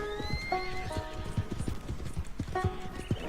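Horses in the video game Red Dead Redemption 2 clop steadily on hooves with several neighs and whinnies mixed in, fairly close and continuous, with no talking over them.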